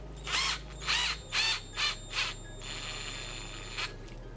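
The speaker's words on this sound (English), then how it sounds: "I mean, it's a drill." A power drill whirs in short bursts, several quick revs with pauses, then runs steadily for a stretch before stopping; close and fairly loud.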